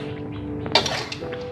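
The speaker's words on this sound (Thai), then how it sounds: "ตอนนี้คือตักใส่จานครับ" Stir-fried blue crab with egg being spooned onto a plate, with clinks of a spoon or spatula on the dish and a louder scrape near the middle, all close and fairly quiet.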